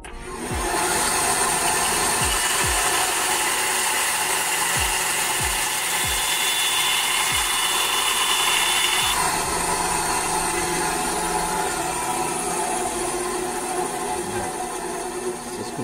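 A power saw fitted with a wood-cutting blade cuts steadily through wood, loud and continuous, with a few sharp knocks early on and a shift in pitch partway through.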